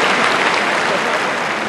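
Dense, steady applause fills a large tennis venue as the audience claps during a charity exhibition match, a continuous loud wash of many hands with no break.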